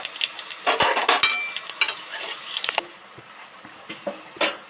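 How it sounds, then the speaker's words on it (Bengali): Bay leaves and a dried chili tempering in hot oil crackle and spit in loud bursts at first, then settle to a quieter sizzle with a few scattered pops. "তেলের মধ্যে 2টো তেজপাতা, একটা শুকনো লঙ্কা ফোড়ন দিলাম।"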